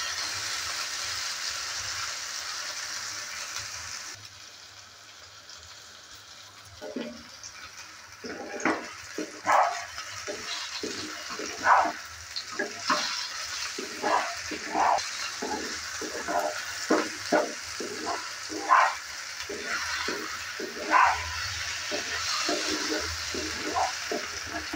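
Fenugreek greens and eggplant fry in an open pan, a low sizzle broken by repeated scrapes and stirring clicks that grow busier after a quiet start, with a faint dog barking in the background.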